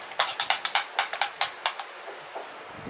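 Spoon briskly beating a no-ferment dal and rice dhokla batter with oil and turmeric in a bowl, about a dozen quick, sharp clicks in steady rhythm, then a pause with faint scraping.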